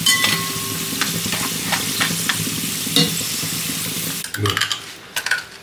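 Steady crackling sizzle of tapioca chips frying in hot oil, with a spoon scraping and stirring now and then and a louder clatter toward the end.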